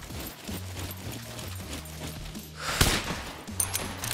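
SVD rifle fire in the night-time survival game Scum, a muffled, distant crack that stands out sharply near the middle, followed by a couple of fainter reports over low rumbling ambience and mechanical clicks.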